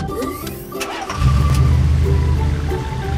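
After a brief stretch of quieter noise, a pickup truck engine catches and settles into a loud, even low-pitched idle.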